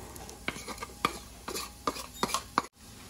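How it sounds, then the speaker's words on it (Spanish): Chopped red onion and garlic fry in a pan with a soft sizzle, while a utensil stirs in a series of distinct scraping strokes against the pan, close and fairly quiet, with no talking. "Y 2 ajos picaditos. Vamos a freír."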